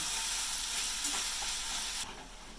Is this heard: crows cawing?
no